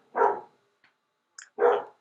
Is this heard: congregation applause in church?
no